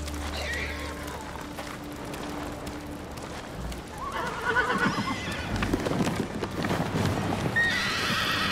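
A horse whinnies loudly and hooves clop in the video game Ghost of Tsushima, set over ambient wind, with someone speaking at moments.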